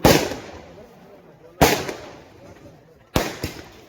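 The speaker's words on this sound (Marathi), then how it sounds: "फटाके थोडी बंद केले तर बरं होतील." Four sharp firecracker bangs, each with a short echoing tail, loud and fairly close, spaced unevenly with quiet crackle between them.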